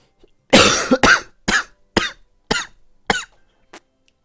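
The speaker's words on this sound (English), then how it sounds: "Yes, we have that same cough." A person coughs close up in a string of about six sharp, harsh bursts, evenly spaced about half a second apart, each fading quickly into silence.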